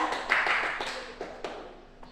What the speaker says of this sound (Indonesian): Bisa diberi tepuk tangan ya